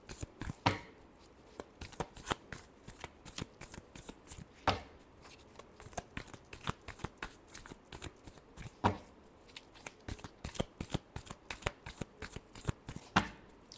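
Tarot cards are shuffled close up in a steady run of quick, crisp riffles and flutters, with slightly louder snaps every few seconds and no talking.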